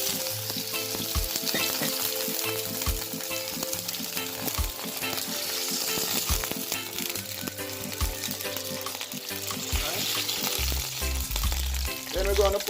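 White Irish potatoes sizzle in hot oil in a pan while cooking Jamaican curried shrimp, a continuous crackling fry with occasional utensil knocks and stirring scrapes, steady and close throughout.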